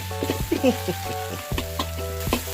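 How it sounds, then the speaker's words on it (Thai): Rice being pressed and stir-fried in a wok with grilled fermented pork for Thai fried rice, with sizzling oil, scraping and clattering of a spatula against the pan in quick irregular strokes, over a steady background hum. "กดข้าวลงไปเลยนะครับ อ่า ยีให้ข้าวมันกระจายให้ทั่วนะครับ"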